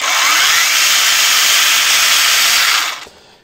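A one-handed cordless Hychika chainsaw runs flat out with a loud, steady high-pitched electric whine and chain rattle for about three seconds, then cuts off abruptly as the trigger is released.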